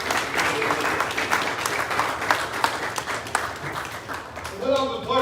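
An audience at a boys basketball banquet gives sustained applause for the coaching staff, a dense, loud burst of clapping from a room full of people that fades slightly before a voice returns at the end.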